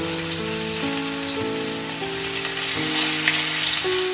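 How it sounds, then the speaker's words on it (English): Chopped onions and chilies frying in hot oil and butter, a steady dense sizzle running throughout with no voices, while a faint sustained tone drifts in the background. "Fry them nicely."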